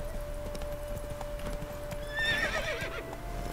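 A horse in the video game The Witcher 3 trots with steady clip-clop hooves over a constant hum, and a loud whinny rises briefly midway.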